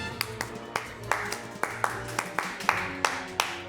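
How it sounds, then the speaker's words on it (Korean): Close, slightly uneven clapping, about ten sharp hand claps at a steady moderate pace, with faint room sound and a little talk underneath. "박수!"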